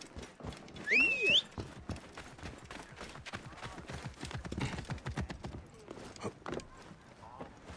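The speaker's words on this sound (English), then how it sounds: "Okay, horse, come to me." A horse in Assassin's Creed Origins trotting with steady, rhythmic hoof clip-clops and a single whinny near the start, while a voice talks over it.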